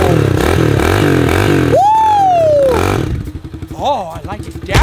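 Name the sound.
motorcycle engine revving in a video game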